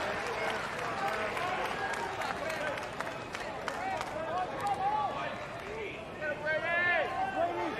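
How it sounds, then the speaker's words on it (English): Spectators at an NCAA super regional college baseball game between Florida State and UConn clap and cheer in a dense, continuous roar with scattered whistles and shouts, and voices talk throughout. "Every pitch accompanied by claps and cheers, and the intensity of this game"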